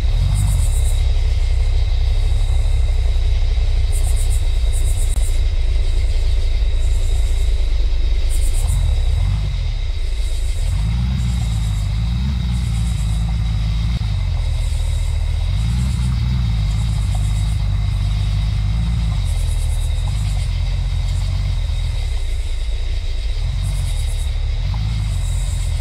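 A game vehicle's engine droning at night, a loud continuous low rumble that dips and rises as the throttle shifts, with a faint insect-like chirping above it.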